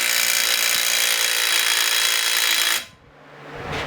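A cordless impact wrench runs at full forward in a loud, continuous high whir for nearly three seconds, then cuts off abruptly, leaving a faint hum that slowly rises again.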